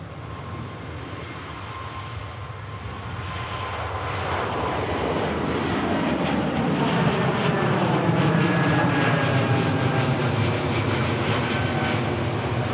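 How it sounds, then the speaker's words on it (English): An Airbus A220 jet airliner at Manchester Airport roars steadily, its engine noise swelling louder midway with a sweeping whine as it passes fairly close, with no voices. "heading back to Paris, Charles de Gaulle on the Airbus A220s"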